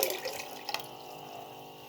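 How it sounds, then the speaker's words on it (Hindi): Soaked garden cress seeds are poured into a pan together with their soaking water, a brief splashing trickle at the start that fades into quieter background hiss. "उसका पानी भी साथ ही डालना है जिसमें हमने हालों भिगोनी है।"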